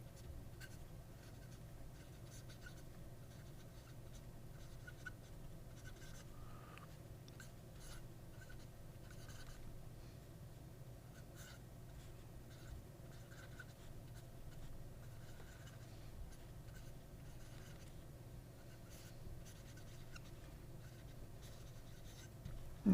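A pen scratches steadily across paper, close and quiet, with a soft continuous scraping and small ticks of strokes.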